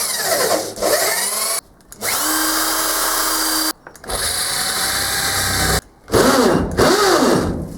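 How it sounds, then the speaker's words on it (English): Power drill boring oil holes into the base of a lathe tailstock in a home workshop, loud whirring bursts repeatedly starting and stopping with short pauses, the motor pitch winding down between runs. "I might just drill some oil holes to go down to the bearings"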